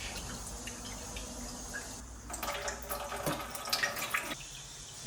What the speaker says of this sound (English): adding in 2 cups of water